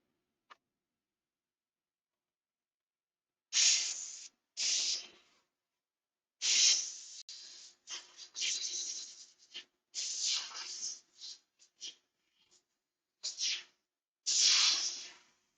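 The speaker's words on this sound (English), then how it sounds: "Make sure you spray in blue." Short hissing bursts from a spray can applying blue paint to a miniature, several separate puffs of varying length with quiet gaps, close and fairly soft.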